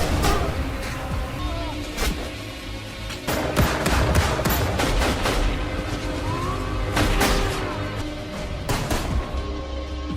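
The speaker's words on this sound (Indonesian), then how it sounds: "baku tembak pun kembali terjadi" Rapid gunfire fills a movie shootout, with dense bursts of shots and booms going off continuously and loudly, voices mixed in among the shooting.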